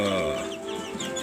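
Young free-range village chicks, second generation from the same breeding stock, clucking and peeping close by in short, overlapping calls.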